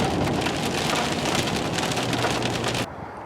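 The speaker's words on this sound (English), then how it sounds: "they never tell you what happens when you get caught in a hailstorm" Dense, fast hail pelts the aluminum body of a 2019 Ford F-150 SuperCrew, a loud continuous drumming rattle close around the cab that stops abruptly near the end, with no talking.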